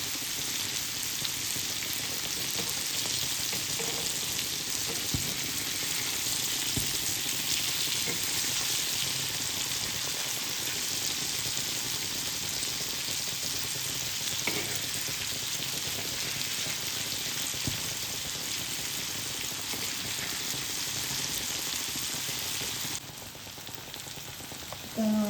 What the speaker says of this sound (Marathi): मच्छी छान अशी फ्राय तयार झालेली आहे. चविष्ट अशी रावसची फ्राय तयार झालेली आहे.